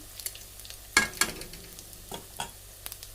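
Vegetable chops frying in hot oil in a home kitchen, a soft continuous sizzle broken by a few sharp scraping stirs and clatters of a utensil, fairly quiet and close.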